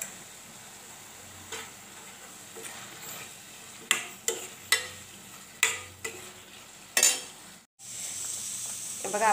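Ridge gourd stir-fried in a pan with salt gives a soft low sizzle, broken by several sharp clicks and scrapes of a spatula near the end, then a brief pause and a louder hiss.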